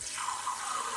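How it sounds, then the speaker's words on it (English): Water pours steadily into a pressure cooker as three cups are added, a continuous broadband splashing rush lasting the whole moment, close and fairly loud. "So I'm going to add 3 cups of water."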